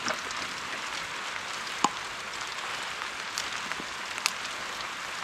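Steady rain falling outdoors on a garden during crocus planting, a dense even patter of drops with a couple of louder, sharper drips standing out.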